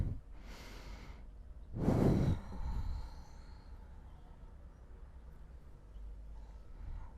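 A slow, audible exhale during a yoga vinyasa flow, with a soft breath early on, then a fuller sighing outbreath around two seconds in and a fainter one near the end, with no talking.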